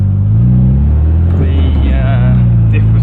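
Low rumbling drive of a K series MG Midget in gear with the throttle lifted, a steady engine drone without whine, a voice speaking over it midway.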